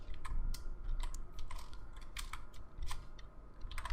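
Quiet, irregular clicking of computer keyboard keys being typed, in short bursts of close taps at a soft level with no voice over them.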